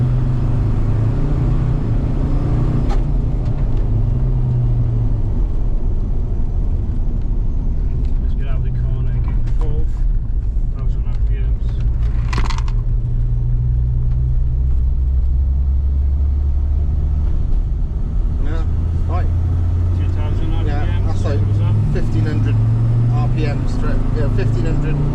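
A Toyota MR2 with a 1.8T engine swap driving under boost, its engine a steady, close low rumble with swelling drone throughout, and people talking over it inside the car.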